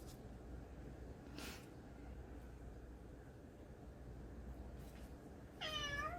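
A house cat meows once near the end, a short rising, wavering call, after a stretch of quiet indoor room hum with a faint brief rustle early on.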